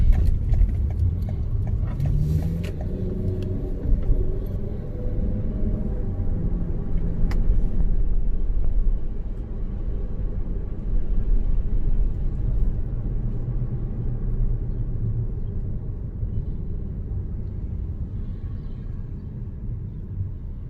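A car driving at steady speed, a continuous low engine and road rumble heard from inside the cabin, moderately loud throughout with no talking.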